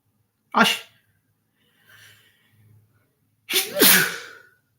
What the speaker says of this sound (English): Powerful sneeze.